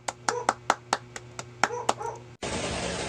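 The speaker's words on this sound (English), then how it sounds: "Please give him a round of applause." Sparse, distinct hand claps ring out one after another in a steady rhythm as an audience welcomes a speaker at a climate change talk, ending in a short burst of noise.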